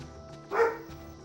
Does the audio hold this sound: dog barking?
yes